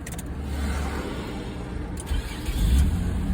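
A Nissan Maxima with an ignition spark fault starts up nearby. It gives a low rumbling idle that swells slightly toward the end, with no talking.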